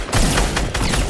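Rapid gunfire from Fortnite: Battle Royale during a pistol-only match, a dense run of overlapping shots filling the moment at steady loudness, with no voices over it.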